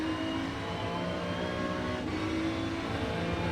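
Ferrari 296 GT3 racing car in iRacing at Road Atlanta, engine accelerating out of a corner with a steady, harmonic-rich drone that climbs slightly in pitch, continuous and fairly close with no talk.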